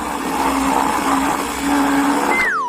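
A kitchen blender whirs loudly and steadily as it mixes ice cream ingredients including smelly cheese, running for a couple of seconds before abruptly cutting off with a brief rising-and-falling tone at the end.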